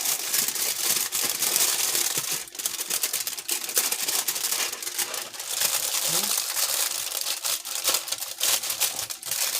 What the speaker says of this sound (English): I don't want the foil squeezed down on top of the meat. So I'm just going to fold it.